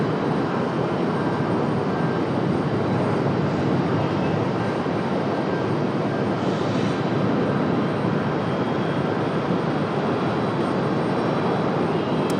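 Passenger airplane landing on a runway at Raleigh-Durham International Airport, a loud, steady broadband engine roar that holds without break for the whole stretch, close and dominant with no voices.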